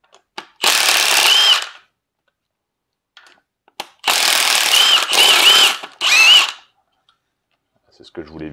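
Impact-style power tool on a 13 mm socket loosening a part while a turbo and 6-2-1 manifold are fitted: three loud buzzing bursts, one long, then a pause, then two more back to back, close by.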